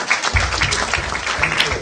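A crowd at a Kenyan youth leadership side event applauds the Senate Speaker, Hon. Ekwe Ethuro, with a short burst of many hands clapping together, even and fairly loud from start to finish.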